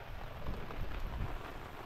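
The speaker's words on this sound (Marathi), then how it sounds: "असा पाऊस पडत आला तशी सुरुवात झाली" Steady rain beginning to fall outdoors, a continuous hiss of drops striking surfaces with soft low thuds, moderately loud and unbroken, no voices.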